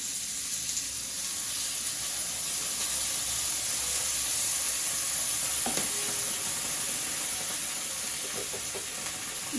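Flat beans and potatoes frying in a pan, a loud continuous sizzle and hiss close by, with faint stirring scrapes throughout.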